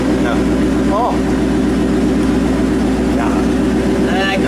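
The engine of a 1934 Ford pickup idles loudly with its exhaust cutout opened, a deep steady rumble running throughout while someone speaks briefly over it.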